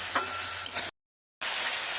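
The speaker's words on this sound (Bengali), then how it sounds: "ভালো মতো করে ভেজে তেল ছেড়ে আসলে তারপর ঘুগনিটা এর মধ্যে দিয়ে দেবো" Chopped tomatoes frying in oil in a pan for street-style ghugni give a close, steady sizzle with light stirring scrapes, cut by a brief half-second of silence before the frying resumes.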